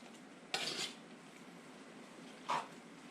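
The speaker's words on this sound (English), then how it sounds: "I just put it in and stir it up and kind of get it mixed in thoroughly" A utensil scrapes and clinks twice against a pot while sauerkraut is stirred for hot-pack canning, two short bursts separated by a quiet pause, close by and moderately soft; no voices.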